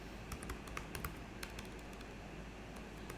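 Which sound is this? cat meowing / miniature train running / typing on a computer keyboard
typing on a computer keyboard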